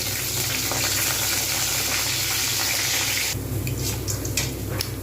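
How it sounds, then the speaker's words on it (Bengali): Bori lentil dumplings frying in hot mustard oil make a loud, continuous sizzle that abruptly drops to a thinner crackle with a few sharp pops partway through. "বড়ি দিয়ে দিলাম বড়িগুলোকে কিন্তু আমি ভালো করে ভেজে নেব"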